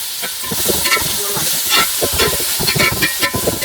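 Five large finely chopped onions sautéing in oil with salt for a vegetable biryani, a steady loud sizzle broken by repeated scraping and stirring clatter, close up with no voices.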